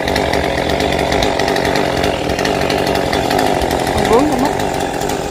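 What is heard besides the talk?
chainsaw cutting a mango tree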